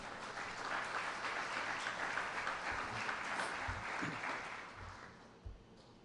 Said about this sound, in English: a round of applause thanking them for participating